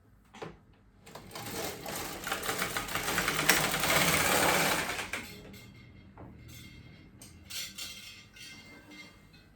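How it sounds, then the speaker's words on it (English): An LK150 knitting machine carriage sliding across the back needle bed on a fair isle row gives a loud, rasping mechanical whir that runs steadily for about four seconds, then fades into lighter clicks and clacks. "This we're knitting at the back now."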